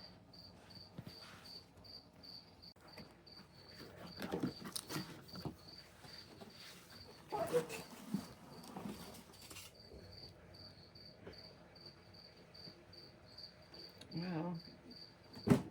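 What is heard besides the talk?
crickets chirping in a basement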